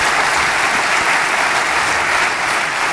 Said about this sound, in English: let's give a round of applause to David and John for an excellent session